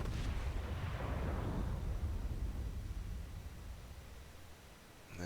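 Warship guns firing in World of Warships, a sharp opening blast that rolls into a long, deep, decaying rumble, with a fresh thump starting right at the end; no talking.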